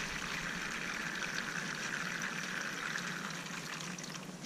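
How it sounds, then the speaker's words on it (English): Water poured steadily into hydroponic seed trays to a depth of about a centimetre, a soft continuous trickling wash, quiet and close, ending with a small knock. "I'm just going to fill these trays with about 1 centimeter of water"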